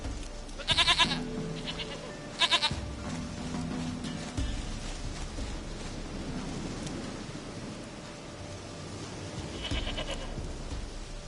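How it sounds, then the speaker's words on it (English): Goat bleating in a video game, a few short harmonic bleats near the start and another near the end, set over a steady game ambience with low rumbling. "Goat of mine, dearest, sweetest goat."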